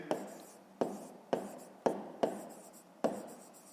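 Pen writing on paper during a fifth-grade maths exercise, heard as a series of about six scratchy strokes, each starting with a sharp tap and trailing off, close and fairly quiet.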